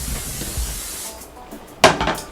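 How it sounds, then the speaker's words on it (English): Cooking spray hisses from a can into a frying pan: a steady bright spray for about a second, then a sharper second burst, close up with no talking. "I'm gonna spray the pan. You can use spray or some oil."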